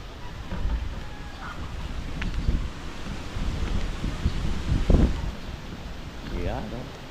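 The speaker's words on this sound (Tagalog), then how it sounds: "lakas ng hangin" Strong wind blows outdoors, buffeting the microphone with low rumbling gusts and rustling, loud and uneven throughout, while people talk nearby.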